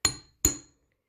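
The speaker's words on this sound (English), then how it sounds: "wherever it needs hammering, hammer away. I'm doing it gently because we really don't want to shape the wire besides straightening it" Hammer tapping gently on jewelry wire to straighten it, two light metallic taps about half a second apart, close and quiet.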